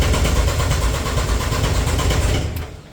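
A cheap race car's engine runs close and loud, churning roughly with an uneven, lumpy throb for several seconds before dropping off abruptly near the end.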